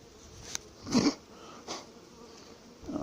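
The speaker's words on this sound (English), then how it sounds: "these honeybees, they'll fly over the homes, they'll fly to wherever" Honeybees buzz near their hives, individual bees zipping past in a few short, rising and fading hums, one loud close pass, over quiet outdoor background with no voices.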